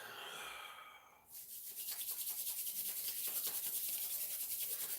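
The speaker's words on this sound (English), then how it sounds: "rub the hands together, inhaling" Palms rubbed briskly together during a qigong exercise, a close, steady rapid swishing friction that starts after a brief pause and continues with an even back-and-forth pulse, with no voice over it.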